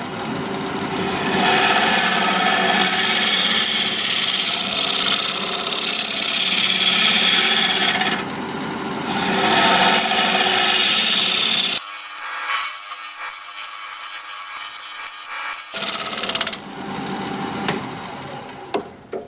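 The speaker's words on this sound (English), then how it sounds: "I'm gonna use my 1-inch negative rig scraper, see if I can clean that up" Continuous scraping and rubbing of a 1-inch negative rake scraper against spinning wood on a lathe, loud and close, cutting out briefly twice before resuming with rougher scrapes.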